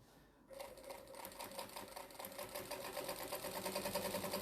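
A sewing machine stitching a strip tote bag made from jelly roll fabric and foam starts up after a short pause, then runs in a steady, close mechanical whirr with fast rhythmic needle clatter.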